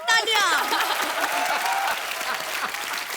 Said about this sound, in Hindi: बहुत बहुत तालियां।